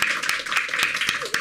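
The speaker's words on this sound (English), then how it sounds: "You are clapping so hard" An audience claps enthusiastically at a comedy talent show, a dense burst of sharp, rapid hand claps with voices mixed in underneath.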